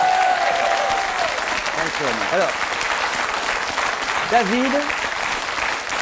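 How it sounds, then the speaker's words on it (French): A television studio audience applauds David Bowie, a steady wash of clapping throughout while a voice speaks over it. "vous êtes aussi en train d'applaudir David Bowie"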